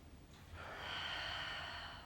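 Deep, slow breathing during a wrist and arm stretch, a long drawn inhale or exhale swelling after a brief quiet start and holding steady near the mic.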